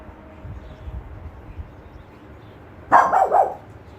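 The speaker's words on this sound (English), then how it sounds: "they're gonna start barking" A dog barks a few times in quick succession near the end, after a stretch of quiet low background rumble.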